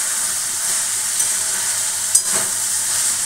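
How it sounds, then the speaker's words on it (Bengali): Prawns and pointed gourd for chochchori fry in a covered pan, a steady, even sizzle that holds throughout with one brief clack partway through, no voices. "ভাজা ভাজা হচ্ছে"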